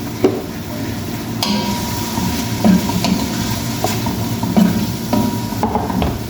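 Vegetables and carrots are stir-fried in a pan for pancit bihon, a loud, steady sizzle broken by repeated sharp scrapes and clanks of a utensil stirring against the pan.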